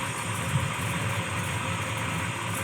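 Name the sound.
big block V8 engine idling in 1966 Chevelle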